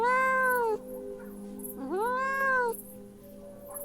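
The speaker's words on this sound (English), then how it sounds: "It meowed softly." A kitten gives two clear, soft, drawn-out meows with a short pause between them, close and alone in an animated story.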